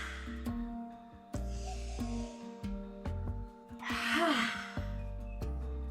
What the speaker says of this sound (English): Breathing in deeply as you come up